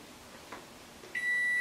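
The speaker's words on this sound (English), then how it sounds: "I heard my timer." A kitchen timer gives a sharp, steady electronic beep that starts abruptly near the end and holds as a single sustained tone over a quiet room.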